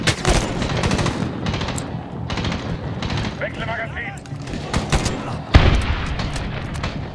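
A grenade blast and bursts of gunfire in the Medal of Honor video game, with rapid overlapping shots and a sharp heavy boom near the end, mixed with a voice talking throughout.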